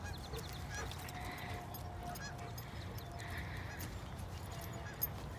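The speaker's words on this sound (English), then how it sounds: "We've got some geese up over there." Geese honking some way off outdoors, a few faint calls rising above a steady background of wind and ambient noise.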